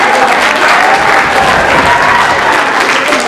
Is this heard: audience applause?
yes